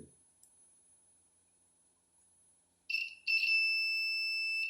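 A short electronic blip, then a steady, fairly loud high-pitched beep that sounds continuously in a quiet room, like a continuity tester.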